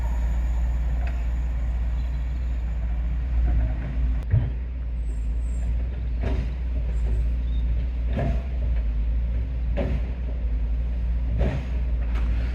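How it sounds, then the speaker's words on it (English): A train passes along a seawall, its deep steady rumble droning throughout with periodic rhythmic clanks and thumps as the carriages roll by, loud and close, with no talk. "What a jolly nice, friendly, and indeed happy train."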